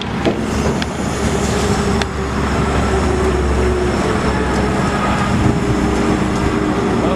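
E-Z Trail 500 auger grain cart unfolding, with a steady loud mechanical rumble and hydraulic drone, a few sharp clanks near the start, continuous throughout.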